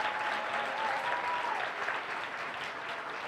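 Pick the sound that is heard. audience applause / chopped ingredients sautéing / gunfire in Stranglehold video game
audience applause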